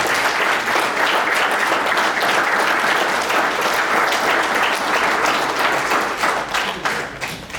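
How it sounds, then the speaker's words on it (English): Steady, dense audience applause at a real estate seminar, loud and sustained throughout before tapering slightly at the end, with no talk over it. "And give a round of applause for Sam Madrid."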